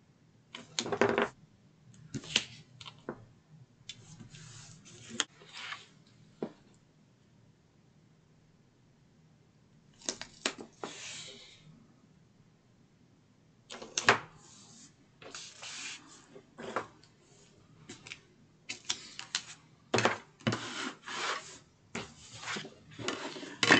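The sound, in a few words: tape being applied to all sides of a board piece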